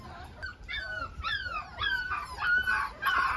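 Five-week-old puppies from a mixed brindle and fawn litter whimper and whine in a string of short, high, wavering cries that overlap and continue through the whole stretch, close by and fairly loud.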